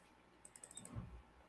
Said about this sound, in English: let's type out 218